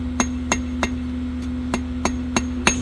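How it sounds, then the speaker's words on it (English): The peen of a hammer lightly taps a hot steel leaf being forged in a Simmons style, about eight sharp clinks at a steady, unhurried pace over a faint background hum, with no talk. "And then come in with the peen of the hammer."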